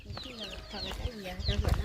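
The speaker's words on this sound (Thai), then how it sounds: "ลูกไก่" Chicks cheep beside a pig pen next to a wooden house in a rural yard, a busy run of high chirps mixed with lower clucking and some rumbling noise, close and moderately loud.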